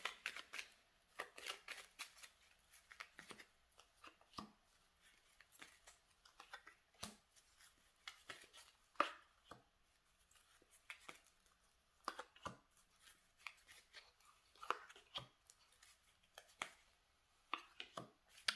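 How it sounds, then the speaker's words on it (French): Playing cards being shuffled by hand in a tarot or oracle card reading session, a quiet, close series of irregular riffling and snapping bursts repeating throughout with no talking. "je vais mélanger les cartes"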